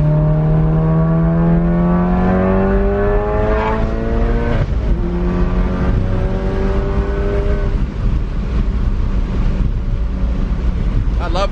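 A car with a manual transmission driving with the windows down, engine droning and rising in pitch through the gears with a shift midway, heavy wind buffeting the microphone throughout.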